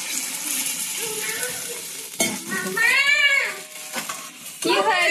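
Water poured into a pan of fish curry sizzling in oil, with katla fish, brinjal and pumpkin among the ingredients. A steady close fry hiss turns into a surging bubbling splash, with brief stirring clatter and a voice talking in the background.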